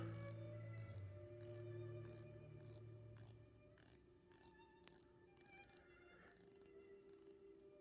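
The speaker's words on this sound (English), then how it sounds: "But listen to this bezel." A watch bezel is turned by hand, giving a run of crisp, close ratcheting clicks, evenly spaced at first and then faster and less regular, against a quiet background.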